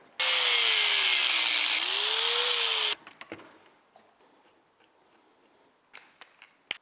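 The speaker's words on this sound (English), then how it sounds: "I'm gonna cut off this excess with a cutoff wheel" A cutoff wheel trims excess metal from a camera dolly being refitted with skateboard wheels, giving a loud, steady, harsh grinding whine for nearly three seconds with a wavering motor pitch, then quieter taps and handling noises.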